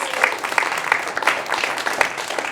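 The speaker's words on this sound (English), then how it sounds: "let's have a big round of applause for Marlou Fernanda, Samra Mayanja, roze, meike, Pris Roos, and Kasper Tinus" Audience at an art exhibition opening applauds the artists, a dense, even patter of many hands clapping close by for a couple of seconds.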